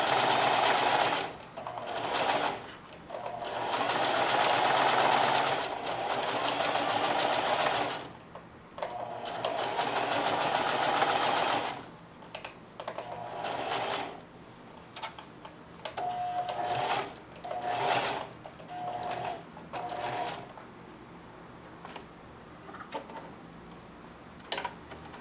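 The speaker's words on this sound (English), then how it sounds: "it feels good to sew" A sewing machine stitches muslin for an apron in rapid whirring bursts, several runs of several seconds each separated by pauses with small clicks and handling noises, heard close and alone.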